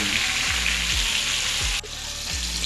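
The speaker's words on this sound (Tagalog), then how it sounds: "nabaliktad na natin yung ating pinipritong isda" Maya-maya fish frying in hot oil in a pan before sinigang is made, a dense continuous sizzle up close with a brief dip partway through.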